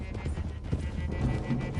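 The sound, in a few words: horses galloping in a video game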